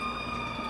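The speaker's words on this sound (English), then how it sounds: "Excuse me if you guys hear a siren in the background." A steady wailing siren drifts in from outside through an open door, continuous and moderately loud behind a quiet room.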